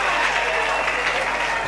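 A church congregation at a community worship service in Yolo applauds and cheers for the Lord, a loud, dense and steady wash of clapping from a large crowd, with voices mixed in.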